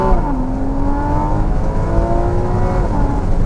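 Porsche Cayman S 981 engine accelerating hard from the driver's seat, a loud, steady rising engine note with clear harmonics that holds for several seconds, with no talking.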